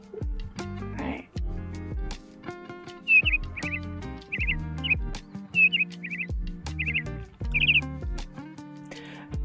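Bird chirp option on a work timer app, short bright chirps repeating in quick clusters several times over a steady musical background, with people talking nearby.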